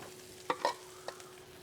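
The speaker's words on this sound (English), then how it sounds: "Let's go ahead and throw down the onions." Onions are dropped into hot brisket fat and stirred, with a few short scraping and sizzling bursts against a quiet, faint background.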